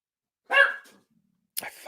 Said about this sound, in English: fucking hate that dog sometimes